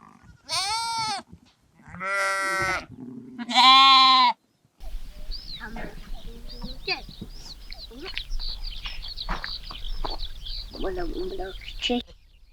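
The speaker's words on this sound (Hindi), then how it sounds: "नानी के पास बहुत भेड़ और बकरी भी है।" Sheep and goats bleat near the microphone in three distinct calls at the start, followed by quieter farmyard ambience with scattered faint bleats and background noise.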